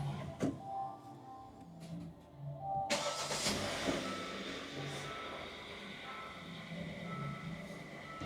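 A Hyundai Santa Fe engine, fitted with a new starter motor, cranks and fires around the three-second mark, then settles into a quiet idle after a few soft clicks and thuds.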